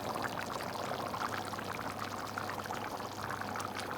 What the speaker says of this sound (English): The Yukhni, mutton Yukhni, bubbling away.